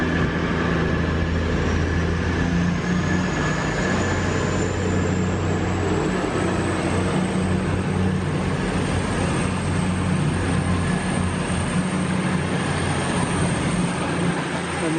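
Freight train rolling through a station, a loud continuous rumble of wagons with a long high wheel squeal running over it, steady and close throughout.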